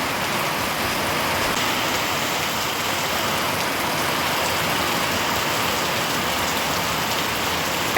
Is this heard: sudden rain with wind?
yes